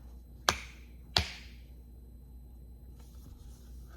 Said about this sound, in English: The note says, clap twice to turn on the lights.